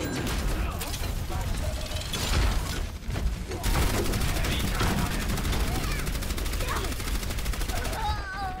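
Rapid automatic gunfire from a slow-firing weapon in the shooter video game Overwatch rattles almost continuously at high volume, layered with mechanical clatter and other game effects.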